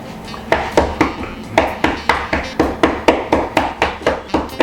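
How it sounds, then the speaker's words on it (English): A mallet pounds nuts wrapped in a dish towel in a kitchen, about fourteen sharp, evenly spaced thuds with a slight crunch, loud and close, with no talking. "we're gonna grab either a mallet, we happen to have one, or a hammer, and we're gonna just crush these."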